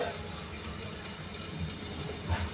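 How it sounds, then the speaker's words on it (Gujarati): Water runs steadily from a tap onto the lid covering a pan of stuffed okra and potato curry, a continuous close splashing and pouring with a brief louder gush near the end. "ભીંડાને આપણે આ રીતે ઢાંકી દઈશું અને ઉપર પાણી મૂકીશું"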